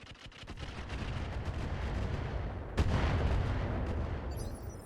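Indirect artillery fire in the mech game RogueTech: a dense, sustained barrage of booming gunfire with sharp transients and a stronger blast near the middle, rumbling continuously throughout.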